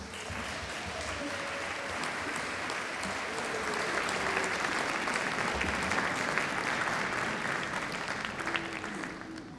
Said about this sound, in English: give people here supporting you a brief round of applause